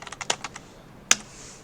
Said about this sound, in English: So if I just typed in the select star from